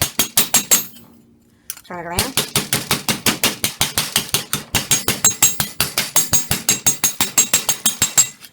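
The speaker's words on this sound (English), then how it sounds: "I'm going to hammer it down" Rapid, steady metallic tapping of a hammer on thin copper sheet, briefly interrupted by a pause and a short spoken phrase, then resuming at an even pace.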